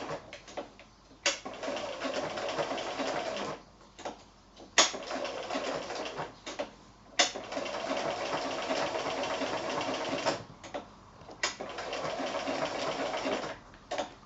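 A sewing machine runs a blanket stitch around fused fabric applique, its steady close whirring broken by several short pauses as the presser foot is raised and the fabric turned, with no talking.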